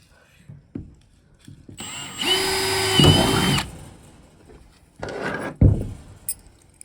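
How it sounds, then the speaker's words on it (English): A power drill pre-drills holes for U-bolt plates in a short, whining burst that spins up and stops, followed by a second briefer burst, with metallic clinks and handling noise between. "pre-drilling the holes"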